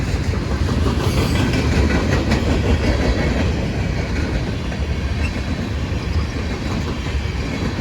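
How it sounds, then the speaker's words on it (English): A long mixed freight train rolls past at Bayview Road in Blasdell, New York, with loud, continuous close-up rumble and steady clickety-clack of wheels on rail joints, no voices over it. "Feels like a long train, huh?"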